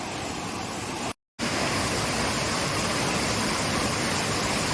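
Rainwater rushes down a stream in dense Konkan forest, a loud, steady broadband roar that cuts out briefly near the start before resuming unchanged.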